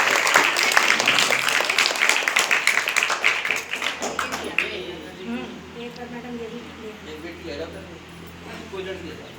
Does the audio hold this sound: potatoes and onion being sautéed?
no